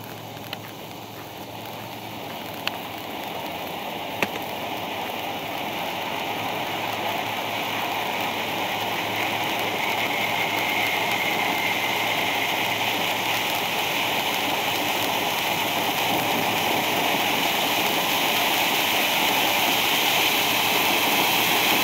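A Brothers Wizard's Hat firework fountain sprays sparks with a steady, rushing hiss that grows slightly louder and fuller over about twenty seconds, broken by a few faint crackles near the start.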